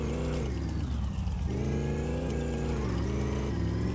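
Car engine in the My Garage video game revving and accelerating, a steady mid-pitched drone that climbs and dips through gear changes, loud and continuous with no voices.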